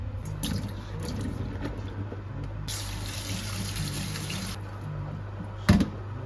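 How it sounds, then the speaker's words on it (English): Water runs from a kitchen tap into a sink while cooked chickpeas are drained, a steady soft splashing stream with brief brighter gushes and a sharp clunk near the end. "Let's drain the chickpeas in the meantime."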